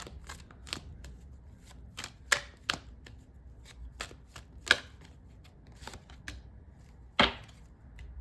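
Tarot cards being shuffled and drawn during a Sagittarius love reading: sparse crisp flicks and slaps of card stock, a few sharper snaps standing out against a quiet room.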